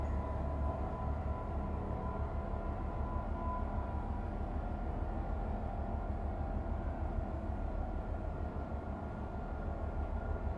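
A train rumbles steadily along the track in the Train Life railway simulator game, a continuous even drone with faint tonal hum that stays constant throughout, with no talking.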